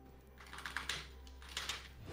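Computer keyboard keys clatter during a fast League of Legends match, a few quick bursts of clicky keystrokes close up over a low steady hum.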